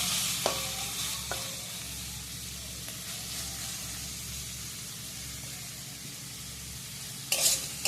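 Onion frying in oil in a pan while being stirred, a soft, steady sizzle with occasional scraping clinks from the spoon and a louder burst of sputtering at the end.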